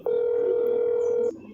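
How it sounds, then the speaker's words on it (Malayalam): A phone rings in the horror video game That's Not My Neighbour as one steady, loud electronic tone held for over a second before cutting off. "റിങ് ചെയ്യുന്നുണ്ട്."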